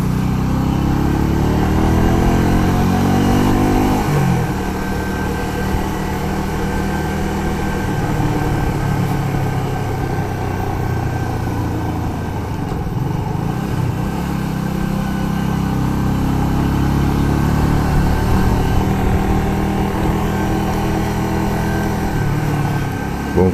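A Honda Shadow 125 motorcycle engine drones steadily while riding, a continuous close mechanical hum with gentle rises and falls in pitch and no talking.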